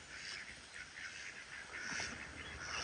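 Ducks and geese in an orchard make a run of quacks and honks at moderate distance, a busy, repeating chatter of fowl with no talking.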